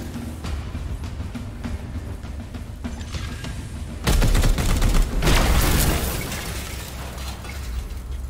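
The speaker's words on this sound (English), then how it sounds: "let's have you shoot this plasma battery" A plasma battery shot and exploding in Warhammer 40,000: Chaos Gate, a sudden loud crackling blast that lasts about two seconds, rising over a quieter mechanical hum and then dying back to it.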